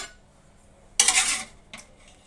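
Boiled beef tripe being cut: one loud clattering burst of a knife striking down on a board or plate, then a shorter, fainter knock a moment later, with quiet in between.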